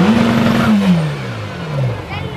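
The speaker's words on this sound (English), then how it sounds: "They have made the Chiron Supersport so much louder than the standard Chiron." A Bugatti Chiron Super Sport hypercar engine revs up and then falls away in two descending sweeps, loud and close, with a voice talking over it.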